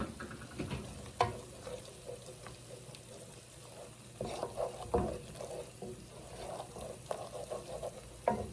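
A roux of flour and fat being stirred in a pan for mac and cheese, soft sizzling broken by repeated spoon scrapes and knocks against the pan, fairly quiet and close.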